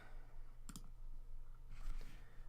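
Two quick, sharp clicks of a computer mouse in a double-click, close and quiet, followed a moment later by a softer click against faint room hiss.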